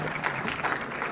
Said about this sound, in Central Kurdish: هەر هەمویان چەپڵە بۆ لێدەن